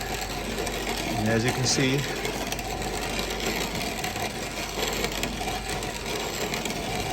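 A hand-cranked mill grinds homemade quail feed with a steady, gritty rasping churn that runs throughout, close and fairly loud, while someone briefly talks over the start.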